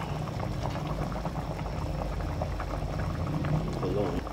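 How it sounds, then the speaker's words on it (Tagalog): A pot of papaya stew in coconut milk bubbles and simmers steadily, a constant low gurgling boil close by. "Ayan, kumukulo na po."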